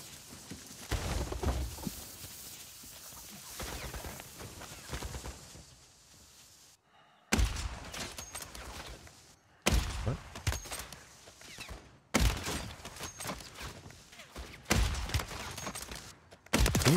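Automatic weapons fire in the video game Warzone 3 comes in several loud, sharp bursts separated by brief near-silent gaps, each volley rattling off rapidly before cutting out.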